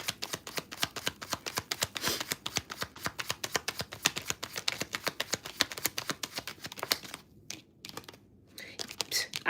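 Tarot cards being shuffled by hand in a fast run of dense riffling and flicking bursts, close and steady for most of the stretch, then a few brief pauses before the shuffling resumes.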